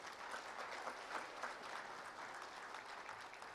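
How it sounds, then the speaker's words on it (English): A large audience at a chemicals and petrochemicals industry summit gives a round of applause after an inaugural address, a soft, even wash of many hands clapping, somewhat distant and steady, with no voices on top. "Can we please have a huge round of applause?"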